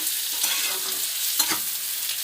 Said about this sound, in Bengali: লঙ্কাগুলো দিয়ে ভালো করে নাড়াচাড়া করে আমি আমটাও দিয়ে দেবো।